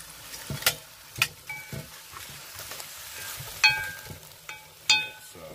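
Saltfish and okra cooking Jamaican style in a pot, stirred with a spoon: a low sizzle runs under several sharp clinks and scrapes of the utensil against the pot, close by.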